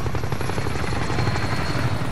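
Steady, loud helicopter rotor thump in a multiplayer shooter video game, a continuous chopping drone filling the whole stretch with no talk over it.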